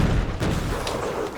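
The tank's main cannon fires in the video game Factorio, a loud booming blast with a heavy rumbling tail and a fresh boom at the end.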